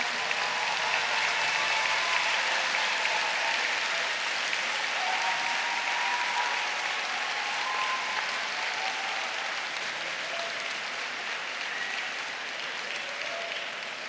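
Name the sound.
applause by graduating class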